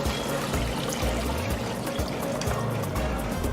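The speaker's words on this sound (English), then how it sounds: "And then we're gonna add in our broth." Broth pouring into a pan for Filipino pancit canton bihon guisado, a steady splashing liquid stream heard up close and continuously with no talking.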